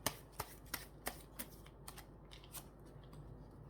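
Tarot cards being shuffled and drawn during a reading, a series of crisp riffling snaps that start sharp and close, then fade into softer, sparser flicks.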